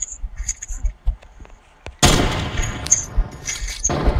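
Gunfire from a sniper rifle in a shooter video game: sporadic faint pops at first, then a sudden loud boom that leaves a dense roaring tail with further sharp cracks.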